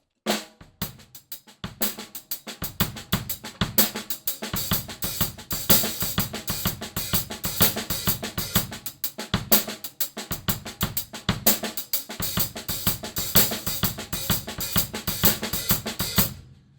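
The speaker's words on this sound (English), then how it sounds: "Now I'm going to play 2 bars of a Purdie Shuffle and then play 2 bars of exercise 5." A drum kit plays two bars of the Purdie Shuffle and then two bars of a related exercise: loud, close, steady shuffling hi-hat and snare strokes with kick hits, a brief gap between phrases.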